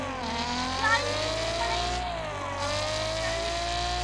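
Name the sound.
cars racing in the video game Car Parking Multiplayer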